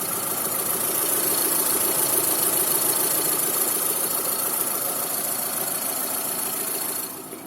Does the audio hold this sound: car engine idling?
yes